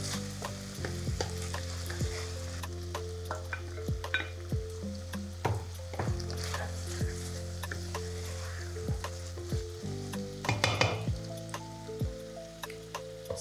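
Beans for a three bean salad are stirred in a bowl, giving soft repeated scraping and clinking strokes at a fairly quiet level. Steady background music plays underneath.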